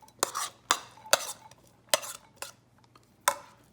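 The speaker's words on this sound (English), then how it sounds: "we're going to take that and put it into a larger size bowl so we can mix everything together" Corn kernels tipped from one bowl into a larger bowl for mixing, several sharp clattering scrapes and knocks at uneven intervals with quiet gaps between, close up, no speech.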